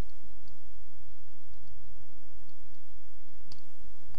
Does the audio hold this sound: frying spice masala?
no